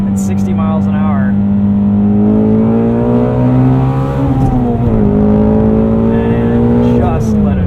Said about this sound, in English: Crazy thing about this car is you can shift down into 2nd at 60 miles an hour.